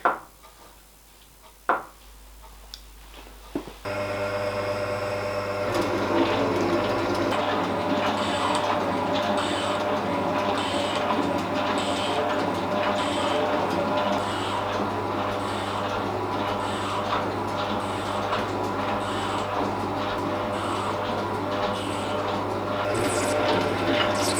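A metal shaper cuts a steel yoke part for a shop-made die filer, giving a steady loud mechanical drone with a regular rhythmic clack from the reciprocating ram, starting after a few seconds of quieter shop noise.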